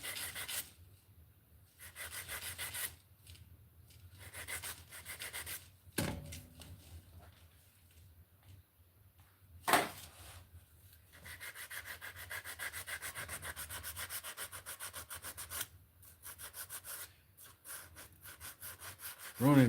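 A ring is shaped by hand with repeated rubbing and sanding strokes, rasping in irregular bursts with short pauses and a couple of sharp knocks between them.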